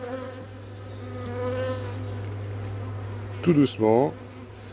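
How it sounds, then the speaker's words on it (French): Honeybees buzz steadily around an opened hive as it is closed after winter, a close, droning hum with the pitch of individual bees wavering. A brief soft voice speaks near the end. "Il y a quelques abeilles qui volent, mais c'est normal."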